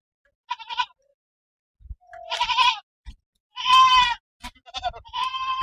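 Several goat bleats in a farm setting, wavering calls spaced across the clip, fairly near and clear with no talk over them.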